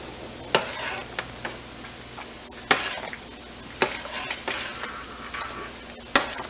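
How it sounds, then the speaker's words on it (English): A spoon stirring homemade tortilla soup in a pot, with sharp knocks against the rim spaced every second or so over a low simmering sizzle, close and fairly quiet with no talking. "Give that a good stir."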